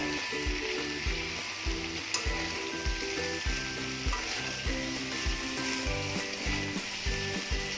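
Bitter gourd and potato slices fry in hot oil for an Odia kalara aalu bhaja, giving a steady close sizzle with rhythmic stirring scrapes throughout and no voices.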